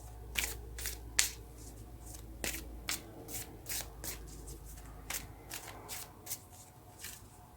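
Tarot cards are shuffled by hand close by, a series of crisp riffling flicks and taps in irregular bursts over a quiet background.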